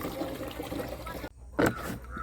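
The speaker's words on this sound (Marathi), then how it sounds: "आता हे पाणी वतायचं म्हणजे सगळं औषध मिक्स होत आहे त्याच्यामध्ये" Water pours into a backpack pesticide sprayer tank to mix in a plant tonic, a soft continuous trickle that breaks off, followed by a brief louder splash.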